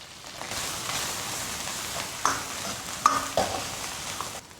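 Pork belly stir-frying in a wok with pickled chili and pickled ginger, a steady sizzle with a spatula scraping and clanking against the metal now and then.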